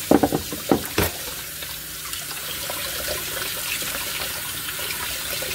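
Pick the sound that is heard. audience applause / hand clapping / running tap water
running tap water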